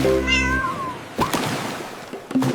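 A cat gives a drawn-out, sliding meow up close, followed by a few quieter, softer sounds and faint rustles.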